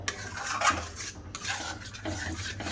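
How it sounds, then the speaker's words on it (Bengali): A spoon stirs and scrapes raw green mango sauce with vinegar in a metal pan, a close run of clinks and scraping swirls with short pauses. "দিয়ে বেশ ভালো করে মিশিয়ে নেব।"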